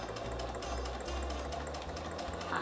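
A sewing machine stitches a kitchen towel with a fast, even mechanical whir and needle patter, heard close and faint, running unbroken for a few seconds with no voices.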